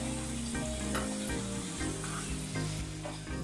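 Chili- and salt-coated chicken pieces frying in oil over a medium flame for a kurma curry, a steady, even sizzle running throughout with no talk.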